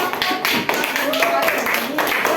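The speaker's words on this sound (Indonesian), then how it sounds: "Oke, sudah tepuk tangan" A third-grade class claps hands in a classroom, with a dense, sustained patter of claps mixed with voices talking over it.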